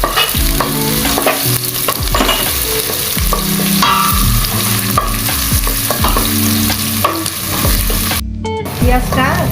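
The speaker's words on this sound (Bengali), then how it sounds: "সমান নেড়ে বাদামি কালার করতে হবে।" Chopped onions for hilsa pulao sizzle steadily in hot oil while a spatula stirs and scrapes them toward light brown, the scraping strokes repeating in a loose rhythm with a short quiet gap near the end.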